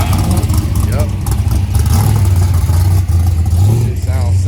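A Dodge Challenger Hellcat Redeye with a cam, running on E85, rumbles deep and loud at a car show, its engine revving up and settling in uneven surges while people talk nearby.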